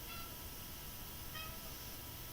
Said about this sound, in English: And my cat has decided she's going to sing for us.